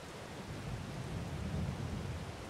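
Rain in the Farming Simulator 22 video game, a soft, faint, steady hiss of falling rain with a low rumbling undertone, continuous and without voices.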